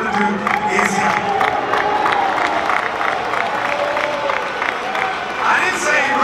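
A press conference crowd for a KSI vs Tommy Fury boxing event booing and cheering at once, a dense continuous roar of mixed shouts and whoops filling the room throughout.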